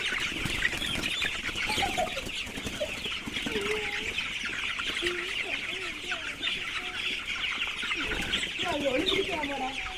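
A crowd of chickens clucks and chatters continuously at a poultry farm near Pollachi, Coimbatore, with a dense, loud flock noise throughout and faint voices mixed in.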